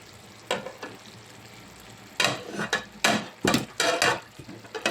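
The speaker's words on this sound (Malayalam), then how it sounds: "ചെറിയ തീ വെച്ച് പിന്നെ വെള്ളം വറ്റിയതിന് ശേഷം ഒന്ന് ഇളക്കി കൊടുക്കുന്നുണ്ട്" A pot of biryani is stirred once its water has cooked off, with bursts of spoon scraping and rustling through the rice against a low sizzle, coming in uneven strokes, close and fairly loud.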